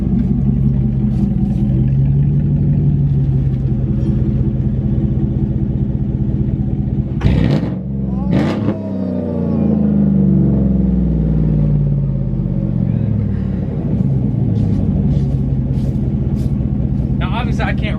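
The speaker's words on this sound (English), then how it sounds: "Hold on, here, I'll go rev it a little bit." A 2014 Chevrolet Silverado with an axle dump exhaust and custom tip rumbles loudly at idle, then revs sharply twice in quick succession before settling back to a deep, steady idle, heard up close.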